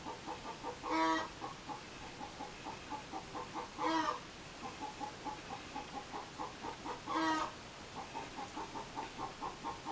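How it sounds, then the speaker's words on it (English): Chickens cluck outside a window in a steady rhythmic pattern, with three louder crowing calls spaced a few seconds apart, moderately distant and fairly faint. "There are chickens outside of my window"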